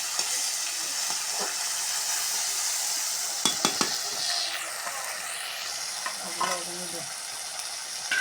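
Ginger, garlic and cumin paste frying in a pan, with a steady sizzle throughout, occasional stirring scrapes and a few clinks of utensils, and some faint background voice.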